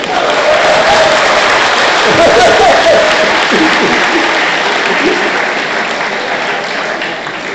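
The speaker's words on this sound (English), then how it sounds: "Stand up for a round of applause." A large audience at a mathematics competition closing ceremony gives a sustained round of applause, loud and dense, with a few voices and cheers mixed in, slowly fading toward the end.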